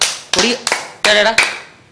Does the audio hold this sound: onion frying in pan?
no